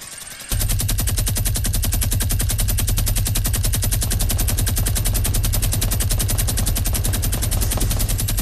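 Automatic weapon fire in Fortnite: a long, evenly pulsed machine-gun burst starts abruptly after a quiet moment and continues loud and close without a break to the end.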